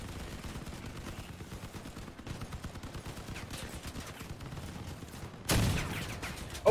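Gunfire in the vehicle combat game Crossout plays as a steady, muffled rattle of automatic shots. A louder burst cuts in near the end.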